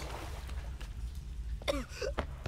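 A video-game character in Shadow of the Tomb Raider gives a couple of short, rough coughing or choking sounds close up. Low game ambience rumbles underneath.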